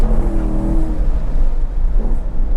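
A Chevrolet C7 Corvette pulls hard on a track, its engine note rising in a loud, close, sustained acceleration that fills the whole stretch with no talk.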